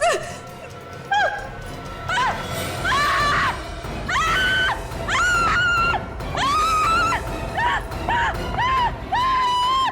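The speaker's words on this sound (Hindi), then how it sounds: "इतना चिल्ला क्यों रही हो?" A woman screams again and again in a tense crime-drama scene, long shrill cries rising and breaking in quick succession, loud and close over a dull background.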